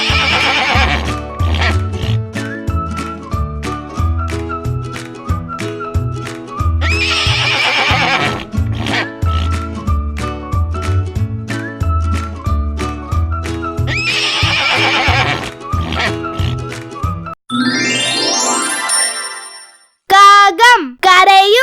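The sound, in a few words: horse neighing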